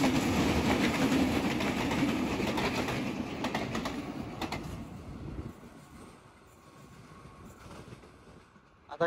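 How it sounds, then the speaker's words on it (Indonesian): A passenger train from Solo Balapan rumbles past up close at Klaten station, loud at first with rhythmic rail clatter, then fading to a quieter hum as it moves away; birds faintly in the background. "Lepas kereta bias dari Solo Balapan akan pergi di stasiun Klaten."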